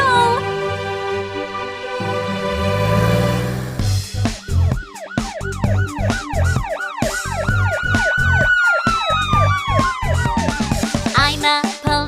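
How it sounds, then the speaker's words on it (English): Cartoon police car siren wails in a rising and falling wee-oo pattern, loud and close. It follows a sustained tone and is layered over background music without speech. "I'm a police car, a brave police car."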